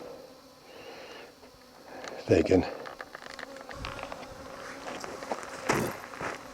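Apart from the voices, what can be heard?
swarm of bees buzzing by a van tailpipe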